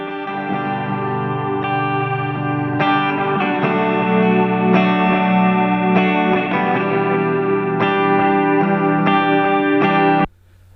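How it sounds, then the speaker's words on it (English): Electric guitar on the bridge pickup, run through delay and reverb for an ambient, moody tone, plays sustained chords and picked notes that ring and smear together for about ten seconds before stopping abruptly. "I think I had like a delay and reverb going on"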